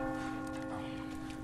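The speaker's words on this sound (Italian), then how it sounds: "La campana, la campana, l'ho sentita. C'è la campana." A church bell tolls with a sustained ringing hum inside the Resident Evil 4 video game, fairly faint beneath background game ambience.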